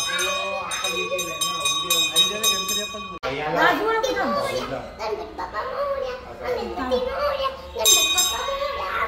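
Temple bells ring with bright, lingering tones at the start and again near the end, while children chatter and talk in between.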